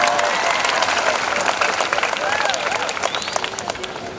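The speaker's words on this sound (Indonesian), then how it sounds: "Kamu tepuk tangan buat saya punya istri." An audience at a regency leaders' anniversary speech in Biak claps for the speaker's wife, a dense, steady burst of applause with scattered cheers and murmuring voices throughout, sustained for several seconds at fairly close range.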